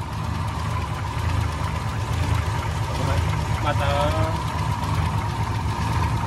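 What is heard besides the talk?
engine of a 1967 Willys Rural idling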